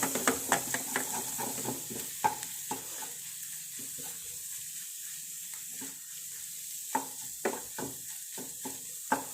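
Egg and spinach thoran being stirred in an oiled pan with a pinch of pepper powder: a spatula scrapes and taps in quick, uneven strokes over a soft, steady sizzle, close by with no talking.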